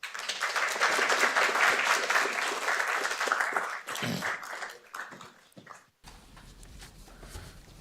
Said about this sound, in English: And a big round of applause to our panellists.